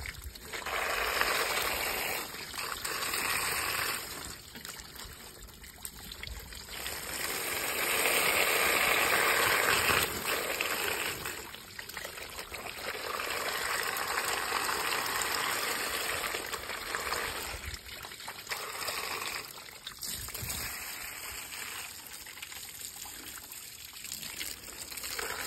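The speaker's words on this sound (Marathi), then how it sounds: "बघू शकतो या ठिकाणी किती काळा पाणी निघतो" Black water drains from a tractor radiator during cleaning, running in a continuous trickle and splash that swells and fades in long waves, close up, with occasional mechanical clicks and no speech.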